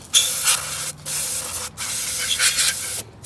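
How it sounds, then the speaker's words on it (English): Three loud, close blasts of brake cleaner spray in a row, each a harsh hiss lasting about a second, separated by brief pauses, cleaning the EGR area of a 2000 Ford F-150 XLT. "I'm gonna spray this stuff"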